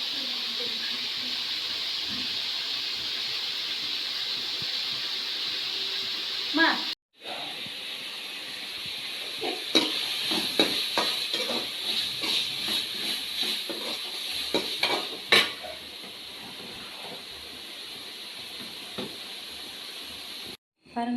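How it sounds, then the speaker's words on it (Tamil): Fish curry bubbling in a pot, a steady hiss of boiling with popping bubbles and clinks of a spoon stirring, while a voice talks over it. "பாருங்க ஃப்ரெண்ட்ஸ், மீன் குழம்பு நல்லா கொதிச்சிட்ருக்கு."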